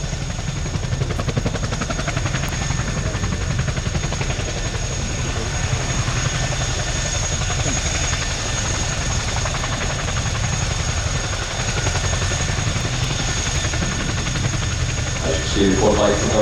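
A Chinook twin-rotor helicopter making a pass at an air show, a loud continuous low rotor drone with a broadband engine roar that holds steady throughout, while an announcer speaks over it.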